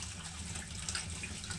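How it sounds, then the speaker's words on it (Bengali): Grated raw potato is rinsed in a sieve under running tap water. A steady, fairly quiet flow of water splashes through the mesh for a moment, with no talk. "তো দেখুন আলুটাকে ভালো করে ধুয়ে নিচ্ছি।"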